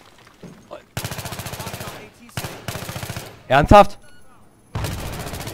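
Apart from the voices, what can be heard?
gunfire in the video game Battlefield 3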